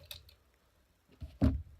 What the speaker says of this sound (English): Crack open this bottle.